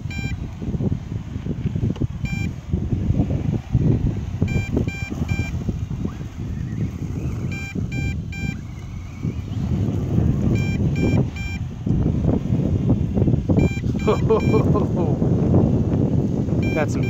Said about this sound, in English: Got some heavy wind.